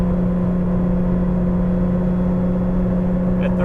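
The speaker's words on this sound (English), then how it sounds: "Going up the hill, half throttle, gradually accelerating up to 80." A 1983 Porsche 911 Safari engine drones steadily as it accelerates uphill at half throttle, a loud, even, continuous hum from inside the car.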